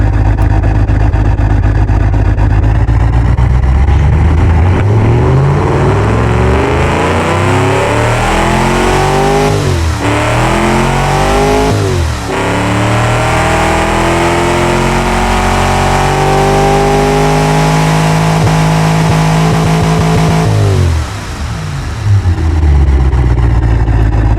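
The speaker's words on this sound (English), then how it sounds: "it makes that amazing V8 engine sound" A V8 racing engine in the Automation car-building game revs hard and loud, climbing and falling through repeated sweeping pulls with brief lifts, burbling between revs, with no talk over it.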